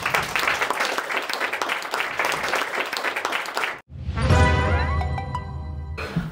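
A stand-up comedy audience bursts into loud, sustained applause and clapping for nearly four seconds, breaks off briefly, then a short musical jingle with bright tones plays before clapping resumes.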